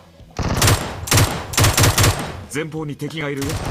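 Rapid bursts of gunfire from a red dot sight rifle in PUBG Mobile, several loud, close volleys in quick succession, followed by a voice speaking excitedly.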